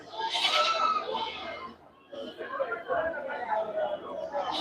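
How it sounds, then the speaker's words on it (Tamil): Male goats bleat loudly at a Saturday goat market in Ettayapuram, Thoothukudi district, with several calls close by, a brief pause, then more bleating over murmuring voices and crowd chatter. "இது எல்லாம் வாங்கி கட்டி போட்ட கிடாக்கள்"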